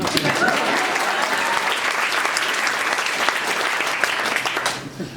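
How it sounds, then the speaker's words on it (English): Audience applause fills the room, steady and loud from start to finish, with a dense crowd clapping that fades slightly at the very end. "And you can clap for that."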